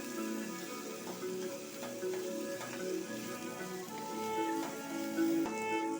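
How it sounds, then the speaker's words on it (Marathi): Onion frying in a tempering for a Maharashtrian jackfruit-seed bhaji, a soft continuous sizzle with faint crackles and light stirring, fairly quiet and steady throughout. "फोडणीला कांदा आता चांगला लालसर करायचा आहे तांबूस कलर यायला पाहिजे चांगला भाजला गेला पाहिजे कांदा"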